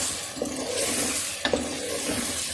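Chicken frying and being stirred in a pan for bhindi gosht, a steady near sizzle with a few sharp utensil scrapes and clinks over it, no talking.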